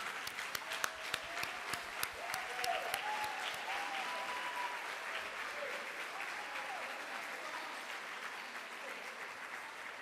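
A large audience at a convocation applauds steadily, dense clapping sustained for the whole stretch with a few voices faintly underneath.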